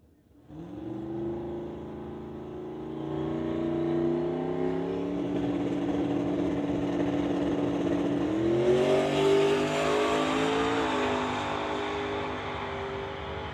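An LS-swapped Fox Body Mustang drag race car accelerates hard down the strip, its engine note loud and rising steadily with a sharp climb in pitch partway through, running continuously without any talk.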